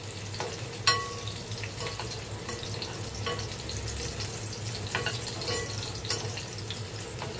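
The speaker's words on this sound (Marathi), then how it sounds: "तांबूस झाला पाहिजे लसूण असं छान लसूण परतायचं" Garlic sautéing in a pan, a faint continuous sizzle with occasional stirring clicks and scrapes, quiet and without voices.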